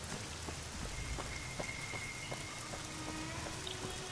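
Steady rain pours in the Fallout New Vegas storm ambience, with a dense patter of drops on surfaces, heard faintly as if from indoors, with no voices.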